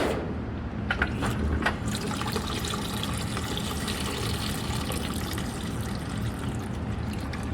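Liquid drains steadily from a disconnected heat exchanger hose on a Duramax LML diesel, a constant close trickle and splash into a pan that lasts throughout.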